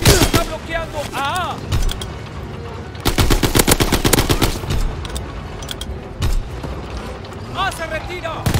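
A WW2 video game battle: loud, close machine-gun and rifle fire crackles in rapid bursts and long volleys, with voices shouting between and over the shots.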